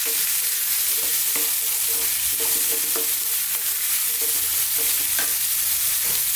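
Carrots and other hard vegetables sizzle loudly in a pan for a mixed vegetable Indian curry, with a steady frying hiss broken by repeated scraping stirs of a utensil.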